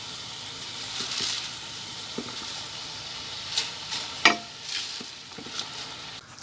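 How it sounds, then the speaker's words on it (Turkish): Washed spinach goes into a pan and is stirred, a soft sizzle under scattered scraping and rustling clicks of the spoon, close and fairly quiet, with no talk. "Ardından yıkadığımız ıspanaklarımızı ekliyoruz."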